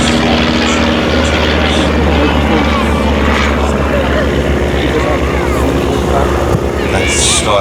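Skylarks display aircraft fly at the Midland Air Festival. A loud, close engine and propeller drone with a steady droning hum continues throughout, and voices mix in underneath it.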